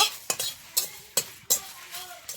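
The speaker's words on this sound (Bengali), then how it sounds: "এই যে জিরে দিলাম। হ্যাঁ এখন ভেজে নেব" Cumin seeds frying in oil for a fish curry with bottle gourd greens, with a soft sizzle under several sharp scrapes of a spatula against the pan, all fairly quiet and without talk.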